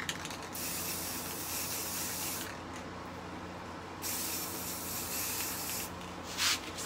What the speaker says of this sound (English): so I'm not gonna spray the whole cup, just the area that I'm gonna want.